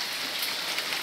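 Steady November rain in Alagoinha, Pernambuco, falling on surfaces as a dense, continuous hiss, close and even throughout with no voices.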